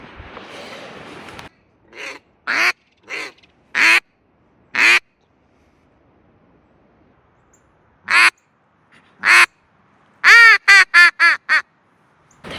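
Ducks quack loudly and close by on a winter duck hunt. Several short bursts come in clusters, ending in a rapid run of quacks, separated by near-silent gaps.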